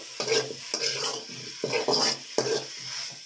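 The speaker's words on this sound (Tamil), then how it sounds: "ஸோ இப்போ நல்லா மிக்ஸ் பண்ணி" Capsicum and groundnut thokku is stirred in a pan in repeated scraping, clattering strokes about every half second, close and fairly loud over a soft sizzle.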